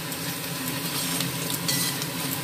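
Spices get stirred into a sizzling mixture in a pan while cooking paneer butter masala, a steady close frying hiss with light scraping throughout.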